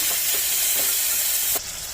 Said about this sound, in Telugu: ఇప్పుడు కొద్దిగా టమాటా కూడా వేసుకొని బాగా కలుపుకోవాలి.